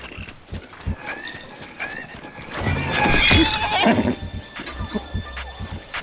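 Horse in the Breath of the Wild video game gives a loud rising whinny with clip-clopping hooves and sharp game sound effects around it, fairly close and clear.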